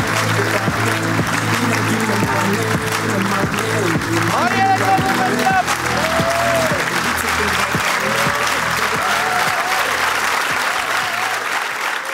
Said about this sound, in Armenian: Բարձր ծափահարություններով դիմավորում ենք գոր!